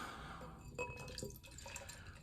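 New England IPA beer being poured from a freshly opened can into a glass, giving a steady close liquid splash and trickle with a few sharp glassy drips, no talking.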